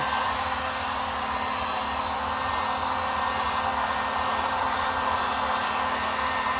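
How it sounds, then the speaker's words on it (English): A heat gun blows hot air onto a label with a loud, steady roar resembling a hair dryer, unbroken for the whole stretch with no talk. "Get a heat gun. Heat up the label."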